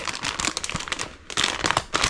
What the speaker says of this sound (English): This whole BMS comes actually in a plastic bag.